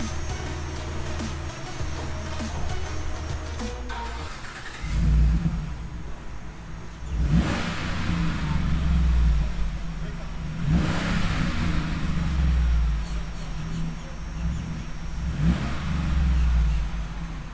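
A 2015 GMC Sierra with its suitcase muffler replaced by a Flowmaster rumbles at idle, then swells through several revs and falls back, loud and close, with faint voices in the background.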